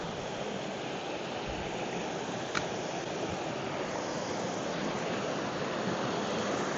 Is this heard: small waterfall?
yes